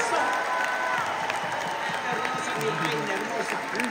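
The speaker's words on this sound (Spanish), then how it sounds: "¡Aplauso fuerte!" Crowd applause and cheering at a pop concert in a theatre in Rosemont, a dense, steady roar of clapping and shouting with voices throughout.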